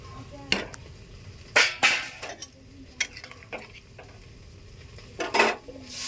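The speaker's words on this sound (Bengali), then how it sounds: "এর মধ্যে ডিমটা দিয়ে দেবো।" An egg goes into a pan for a Bengali mustard egg curry, with sharp clinks and scrapes of utensil against the pan rising over a soft, steady background hiss.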